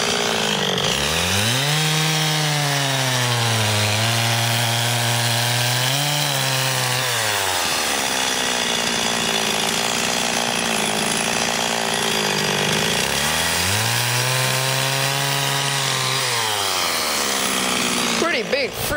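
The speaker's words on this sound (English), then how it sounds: "We just tanked up the chainsaw there and gave it some bar oil. And it runs great." A freshly fueled and oiled chainsaw cuts into a huge tree, loud and close, its engine revving up and bogging down in two long sweeps with steady idling between.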